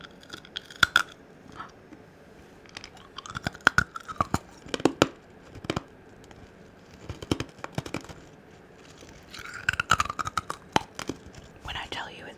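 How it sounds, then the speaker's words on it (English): Hard 90s candy crunched up close: a string of sharp, irregular crunches and bites with whispering between them. "so like, let's see if we can still crunch it."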